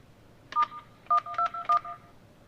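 Keypad tones from a CQ100 HD IP telephone as star 121 is dialed: one short dual-tone beep, a pause, then three quick beeps in a row, clear and close in a quiet room.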